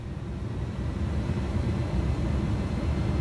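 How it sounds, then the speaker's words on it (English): Jet engines of an MD-11 airliner in the X-Plane 12 flight simulator, heard from the cockpit as a steady, muffled low rumble that holds even and continuous with no voices. "First time I'm revving the engines a tad."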